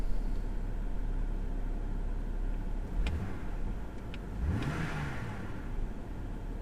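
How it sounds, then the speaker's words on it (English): BMW N52 inline-six engine in an E90/E60 with a rough idle and surging fault, idling down: a steady mechanical hum with a brief rise and fall in engine pitch partway through, heard close and without talk. "And now it's idling down."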